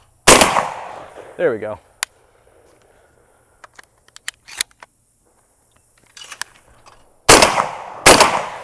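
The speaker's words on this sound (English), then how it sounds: "That's the first shot out of that gun, so let's see." Three sharp shotgun blasts ring out close by: one near the start, then two more in quick succession near the end, with a short spoken phrase and faint clicks and handling noises in between.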